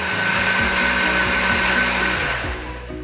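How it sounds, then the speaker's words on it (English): A countertop blender grinds soaked soybeans with water to make soy milk, a loud, steady whirring roar that holds for a few seconds, then eases slightly in pitch and volume near the end. "how much time it takes to grind up the beans depends on your blender"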